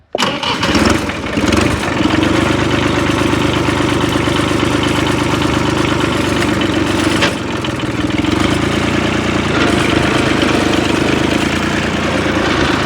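Engine of a button-start farm machine running steadily at idle, a loud, continuous mechanical drone that holds evenly throughout with a slight dip partway through, no talking over it.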